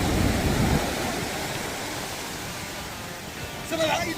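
Ocean waves at the sea near Tangier make a steady broadband rush of surf, close and continuous, with a faint voice at the end.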